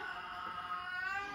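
A house cat meows in one drawn-out, slightly wavering cry, close and fairly clear, with no talking over it.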